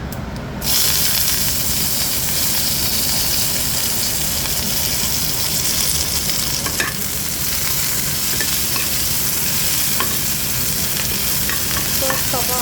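Fenugreek, mustard seeds, green chillies and curry leaves hit hot oil for a curd rice tempering, bursting into a sudden loud sizzle that holds steady and close, with faint crackles and pops scattered through it.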